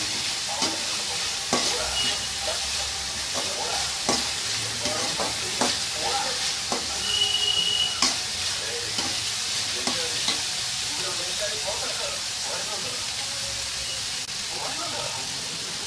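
Chopped onion fries in oil for fried rice, a steady close sizzle broken by the scrape and clatter of stirring, with a voice talking quietly underneath.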